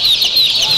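Young poultry chicks being handled give a loud, close burst of high, shrill peeping lasting under a second, with no one talking.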